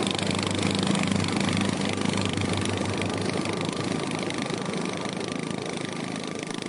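A motorcycle engine in the yard of a house runs loud and close as a steady, unbroken drone for the whole stretch.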